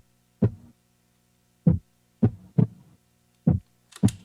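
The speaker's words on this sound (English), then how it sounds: "So this is what the heartbeat sound is." Heartbeat sound sample from a house music track: deep, thumping low beats arriving in irregular pairs and singles, each with a short humming tail, alone and clear, ending with a brighter hit.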